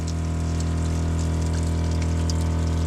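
Water runs steadily from an outdoor shower fed by an on-demand propane heater, a continuous splashing gush over a constant low pump-like hum, with no voices.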